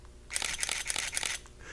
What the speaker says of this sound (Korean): 뒤에 뭔가 찰칵찰칵 하는 사진 찍는 소리가 났어